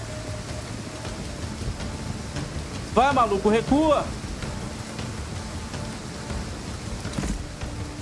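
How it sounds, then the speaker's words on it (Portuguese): Steady rain falls throughout a battle in the video game Total War: Pharaoh, a continuous hiss at even loudness, with someone speaking briefly over it midway. "A chuva ajudou a gente também."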